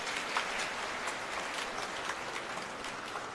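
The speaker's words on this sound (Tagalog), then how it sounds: "Pumalakpak ng malakas." A church congregation at a Sunday homily applauds, a continuous, even patter of many hands heard from a distance with no voices.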